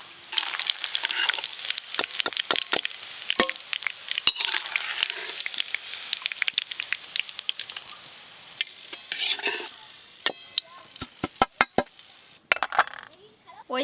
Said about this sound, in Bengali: ওই তেলেই এবার আলুগুলো সব ভেজে নেব।